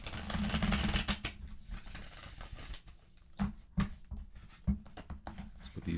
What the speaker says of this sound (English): Okay, let's reshuffle.